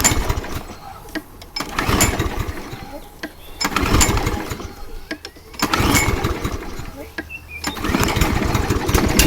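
A Toro Recycler lawn mower, flooded after being tipped over, gets repeated rope pulls, giving several loud, close bursts of engine sputter and revving that rise and fall, with pauses between tries.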